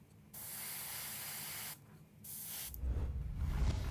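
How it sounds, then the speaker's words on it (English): An airbrush sprays red paint onto the flame tips of a painted miniature of a human rogue. There are steady hissing bursts of roughly a second and a half each, separated by short pauses, and the last burst is stronger and rougher. "I'm just going to spray this to the very tips of the flames, like so."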